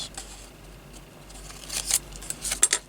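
Scissors snipping through paper to cut out printed statements, a few quiet snips building to sharper, closer cuts near the end, with no talking.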